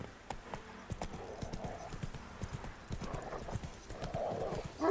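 Horse hooves clip-clop at a steady trot in The Witcher 3 on PS5, a fairly quick, even rhythm of close hoof strikes, with a brief whinny-like snort and soft background ambience.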